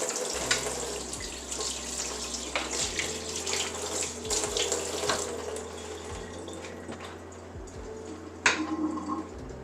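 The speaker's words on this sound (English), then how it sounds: "And give it a rinse." Kitchen faucet running steadily over about half a cup of carrots being rinsed for moo goo gai pan, with splashing water, occasional knocks and clinks near the sink throughout.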